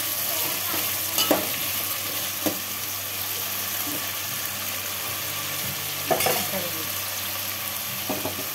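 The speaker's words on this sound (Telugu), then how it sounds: "టమాటాలు పైన టమాటా వేసుకోవాలి. కొంచెం వేగాలి. పచ్చివాసన పోయే వరకు వేగాలి." Tomatoes frying in a pan with a constant close sizzle, broken by several scraping stirs of a spoon against the pan, no one talking.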